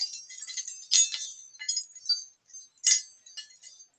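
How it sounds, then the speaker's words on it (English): A handmade wind chime strung with glass beads and crystals tinkles continuously, with bright irregular clinks that swell into louder clusters, heard close and with no voices. "Wind chime, which will actually sit on the guttering outside."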